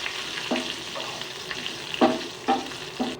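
Curry leaves and a spoonful of cumin seeds crackle and sizzle in hot ghee for a dal tempering, a steady hiss broken by several sharp spattering pops and stirring scrapes.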